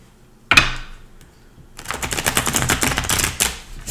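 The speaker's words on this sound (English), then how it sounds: "so let me get two more shuffles in." Tarot cards being shuffled: a sharp snap, a short lull, then a dense run of rapid papery riffling clicks, close and fairly loud with no talking.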